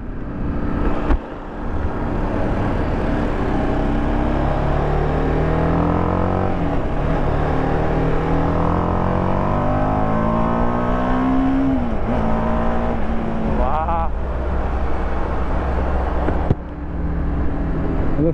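A TVS Apache RR310 BS6 motorcycle in sports mode pulls hard under throttle, its engine note climbing through repeated rising sweeps with brief dips at gear changes, loud and continuous with no speech.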